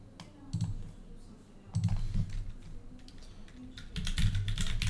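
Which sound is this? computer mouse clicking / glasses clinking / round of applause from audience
computer mouse clicking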